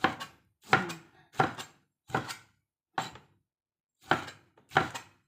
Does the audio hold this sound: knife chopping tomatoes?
yes